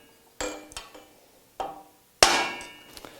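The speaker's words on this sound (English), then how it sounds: "you want to give it a pretty good tap with a nice steel hammer" A steel hammer strikes a bearing race on an SKF bearing assembly in four sharp metallic taps with ringing decay, the last the loudest, spaced irregularly with quiet between.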